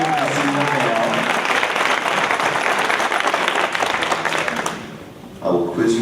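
At a teen panel discussion during a 2014 conference, a crowd gives a lively burst of applause for the panel, with a speaker's voice heard just before and again as the clapping dies down.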